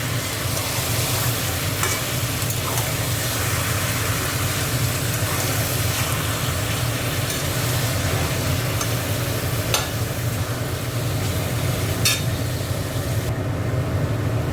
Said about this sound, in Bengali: মাংসটাকে ভালো করে নেড়ে দেবো।